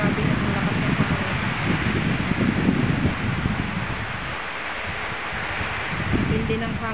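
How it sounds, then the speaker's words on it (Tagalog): Strong wind roaring steadily, gusting with rustling noise and buffeting the microphone throughout. "Grabe na ang lakas ng hangin."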